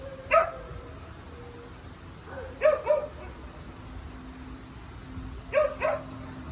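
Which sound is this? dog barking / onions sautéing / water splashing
dog barking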